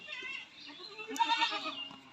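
Pregnant crossbreed goats on a goat farm give a few wavering bleats, close and clear, with a quiet voice briefly in the background.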